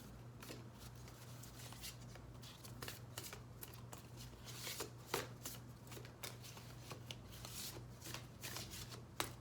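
Handmade tarot cards shuffled close by, a steady run of soft riffling and flicking with sharper snaps scattered throughout, quiet and continuous with no talking.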